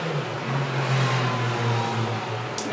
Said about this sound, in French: Merci la moto.